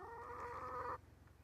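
A pet hen on a jungle fern forest trail on Hawaii's Big Island clucks close by in a drawn-out, throaty call that cuts off abruptly, followed by quieter rustling.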